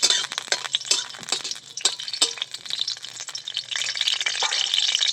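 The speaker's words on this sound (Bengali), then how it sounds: "রসুন আর কাঁচা লঙ্কাটা দিয়ে দিচ্ছি। দিয়ে একটু হালকা নেড়ে চেড়ে নেব।" Garlic and green chilli crackle in hot oil as they are stirred around a pan, a close, bright sizzle punctuated by quick scraping strokes of the spatula in uneven bursts.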